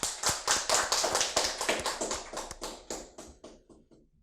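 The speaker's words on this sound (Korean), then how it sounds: "박수 한번 칩시다." An audience at a Korean political talk claps: a quick run of crisp, evenly spaced hand claps starts loud and close, then gradually thins and fades out after about four seconds.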